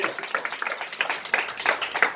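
Rhythmic clapping from a church congregation, steady hand claps in a quick beat, fairly close and sustained throughout.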